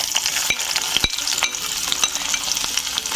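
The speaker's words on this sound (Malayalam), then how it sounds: "ചൂടായ എണ്ണയിലേക്ക് നമുക്ക് കടുക് ഇട്ട് കൊടുക്കാം" Mustard seeds and small shallots sizzle loudly in hot oil for a bitter gourd thoran, with a dense close hiss punctuated by sharp crackles and quick scraping stirs, and no one speaking.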